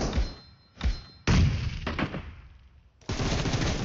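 Gunfire in PUBG Mobile, in a warehouse fight: loud rapid bursts of automatic shots and heavy thuds in quick clusters, with short gaps between volleys.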